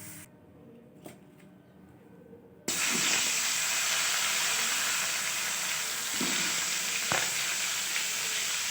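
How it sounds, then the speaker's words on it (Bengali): Cauliflower fries in oil in a pan for a rui fish curry, a loud steady sizzle that bursts in after a few quiet seconds of light handling and then continues close, with occasional stirring knocks. "এরপর আমি আলুটা নামিয়ে নিয়ে ফুলকপিটা ভেজে নিচ্ছি"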